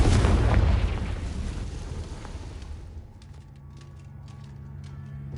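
A Confringo fire spell bursts in Hogwarts Legacy, a loud booming blast with a long rumbling tail that fades over several seconds into low game ambience.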